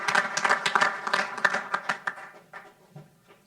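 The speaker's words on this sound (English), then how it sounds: "So I want to give Red a round of applause." Applause in a city council meeting room: a dense burst of many hands clapping that thins and fades over a few seconds, moderately close, with no talking.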